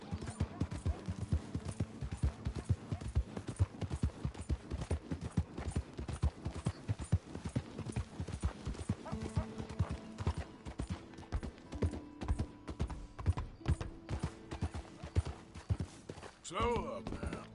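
A horse's hooves clip-clop continuously on the ground in Red Dead Redemption 2, a fast, even riding rhythm that runs throughout, loud and close, and eases off near the end.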